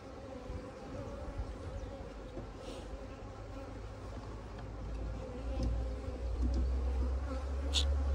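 Honeybees swarm around an opened beehive, a soft continuous buzzing hum with individual bees passing nearby, while a low rumble swells toward the end.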